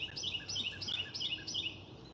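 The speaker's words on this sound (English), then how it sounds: "Plus the birds is making enough noise." Small birds chirp outdoors on a garden morning, a repeating series of bright, quick high tweets in short bursts about every third of a second, moderately close and clear over a soft, low background rumble.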